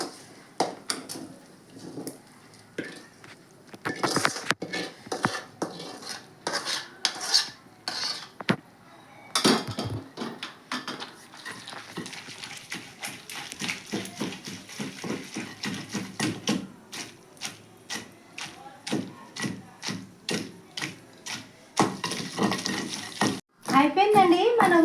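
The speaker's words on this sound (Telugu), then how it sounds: "రోట్లు వేసి నూరుకుందామండి." Fried onions being ground in a stone mortar for onion chutney, giving a series of soft, irregular scraping and pounding strokes close by, with someone talking at times.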